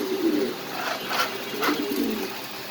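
A Nuremberg lark pigeon cooing at a pigeon farm, soft low rolling coos repeated a few times over steady background hum, close and moderately quiet.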